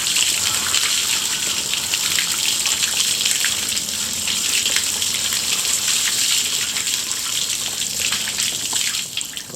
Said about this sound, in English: So I've got a bucket full of soapy water.